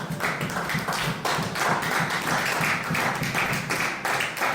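A church congregation claps and acclaims the word of God, producing a dense, continuous patter of applause from many hands with a few cheers mixed in, steady and fairly loud.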